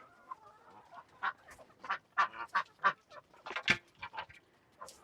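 A duck calls repeatedly in its pen, a run of loud, close quacks and honks at an uneven rhythm with no talk.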